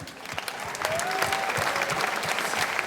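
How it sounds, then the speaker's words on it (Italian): An outdoor crowd in a town piazza applauds at a wind band concert, a dense, even wash of clapping that builds slightly and holds, with a brief whistle-like tone rising above it early on. "credo che ci meritiamo un applauso"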